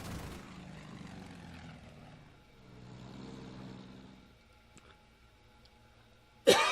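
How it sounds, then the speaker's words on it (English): Propeller aircraft drone overhead in a World War II desert battle game set at Alam Halfa, a faint engine hum that swells and fades, ending in a short sharp burst. "they've got planes all over the freaking place"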